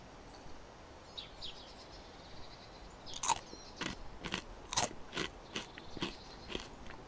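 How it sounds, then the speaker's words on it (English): Crunchy crisps eaten in the video game DayZ: a series of sharp, crisp bites and crunches in a loose rhythm over faint outdoor ambience with soft birdsong. "got some crunchy crisps"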